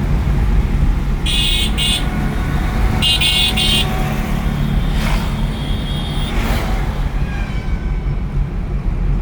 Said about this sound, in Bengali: আগে সিএনজি যাচ্ছে।